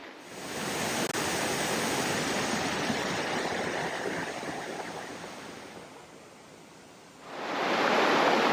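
River rushing steadily beside the North Twin Trail in the White Mountains of New Hampshire, a broad, continuous roar of flowing water that dips briefly before swelling louder again.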